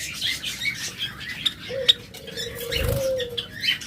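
Java sparrows and other cage birds, with repeated short chirps and tweets over a low hum, a brief coo-like tone, and a soft thump.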